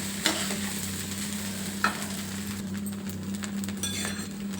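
Rice being mixed by hand with mashed dal and avakaya mango pickle, a soft, steady mushy churning close up, with a couple of brief clinks against the plate.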